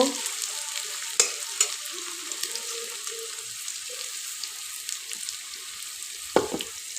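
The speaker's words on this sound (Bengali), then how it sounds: "পেঁয়াজগুলো লাল লাল করে ভেজে তারপরে এক করে দিতে থাকবো" Onions frying in a pan on an electric heater: a steady soft sizzle with a few sharp stirring clinks and scrapes, one louder knock near the end.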